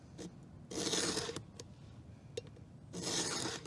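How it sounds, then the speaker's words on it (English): A chainsaw's cutters being sharpened with a hand file: two rasping strokes, close and fairly loud, separated by a quieter pause with a few small clicks. "I'm gonna do the count on this side and I'll start filing."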